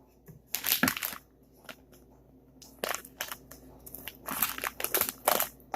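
Scissors cut straight across a piece of material in several separate crunchy bursts with quiet pauses between them. The snips are close and fairly soft, with no talking.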